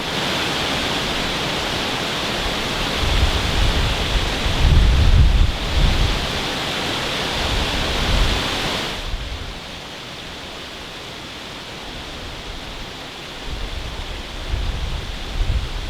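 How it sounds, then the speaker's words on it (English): Strong evening wind blows by a river at dusk, a loud, continuous roar buffeting the microphone in heavy surges that ease off slightly partway through, with no voices. "It's really blowing. Wind's picked up this evening."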